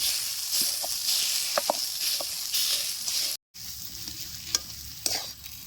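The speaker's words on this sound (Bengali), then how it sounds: "গ্লাসের পিছন দিয়ে আলুগুলো ভালো করে গালাইয়া একটু ভাজা ভাজা করে নিচ্ছি" Mashed potatoes sizzle and fry in a pan while a utensil scrapes and stirs in short strokes, close by, with a brief dropout midway.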